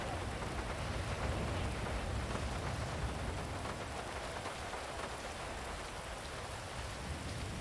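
Steady rain pours down in a Grand Theft Auto game, a dense, even hiss of drops spattering on surfaces that stays loud and constant throughout, with no talking over it.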